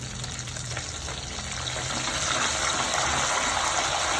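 Dried red chillies and curry leaves frying in hot oil make a continuous close sizzle with bubbly crackling that grows a little louder and fuller over a few seconds.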